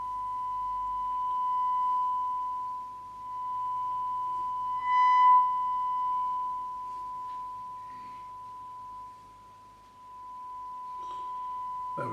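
A steady sine-wave test tone plays through a Ferguson radio under service, a single pure pitch that holds unbroken for the whole stretch at moderate level, with faint background noise and no talk.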